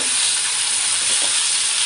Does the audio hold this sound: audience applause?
no